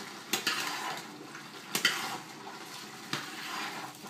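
Wooden spoon or utensil stirring pisto vegetables in a frying pan, soft scraping strokes over a faint background sizzle, a few distinct scrapes close by with no speech.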